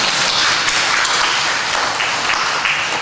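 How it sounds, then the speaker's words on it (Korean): Congregation at a Sunday church service giving a round of applause, a steady wash of many hands clapping that fills the hall without a break. "우리 일본 식구님들 위해서 큰 박수 한번 하겠습니다"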